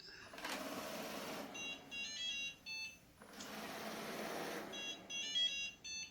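A Shark Ion robot vacuum starts up with two rising whooshes of its motor and brushes, each followed by short beeping chirps, fairly quiet and close by.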